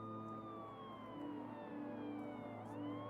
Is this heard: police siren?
yes